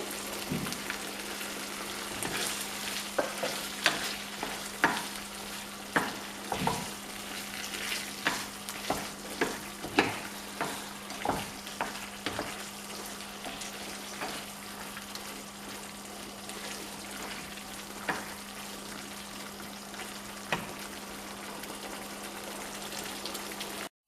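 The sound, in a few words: frying and stirring after adding oil, cooking dum aloo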